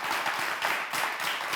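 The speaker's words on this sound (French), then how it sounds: "Applaudissez pour moi" Studio audience applause at a Togolese TV talk show, a dense, continuous patter of clapping at moderate volume, heard alone.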